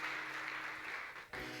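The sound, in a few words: applause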